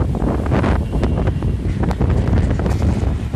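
Loud gusts of a storm wind roar and buffet close to the microphone in an unbroken rush.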